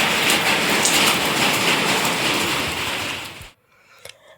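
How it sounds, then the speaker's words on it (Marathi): Steady heavy rain hisses loudly for a few seconds, then cuts out abruptly, leaving near silence with a faint bump. "बाहेर तर पाऊस पडतोय"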